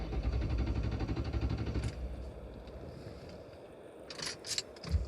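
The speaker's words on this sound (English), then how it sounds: "It just spins the starter." A 1999 Lincoln Town Car's starter motor cranks without the engine catching, a rapid rhythmic whirring that runs loud for about two seconds and then stops, followed by faint clicks and rustles.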